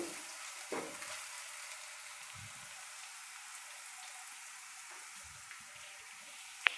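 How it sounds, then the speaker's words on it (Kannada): Cumin, pepper and asafoetida fry in a pan for rasam. A quiet, even hiss of frying continues throughout, with a few soft knocks and one sharp tick at the end. "ಸೇರಿಸಿ ಫ್ರೈ ಮಾಡ್ಕೊಳ್ತೀನಿ"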